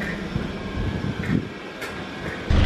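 Merseyrail train in motion, a continuous low rumble and rattle heard from inside the carriage, with brief squeaks and a louder surge near the end.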